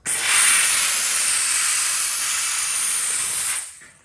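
A loud, steady steam hiss from a Bissell Steam Shot steam cleaner spraying grout blasts for several seconds, then cuts off and fades quickly.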